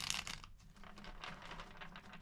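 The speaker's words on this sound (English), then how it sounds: "Last shuffle." Tarot cards shuffled by hand during a weekly reading, a steady soft riffling and crinkling patter that runs on for a couple of seconds, faint and close.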